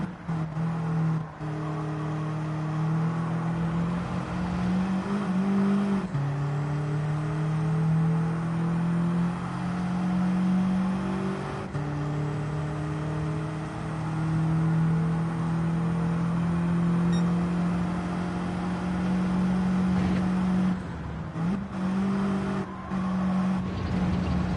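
A 2010 Volkswagen Scirocco R runs a lap, its engine droning steadily and loudly throughout, pitch rising and falling with gear changes and throttle, with a brief dip and lift near the end.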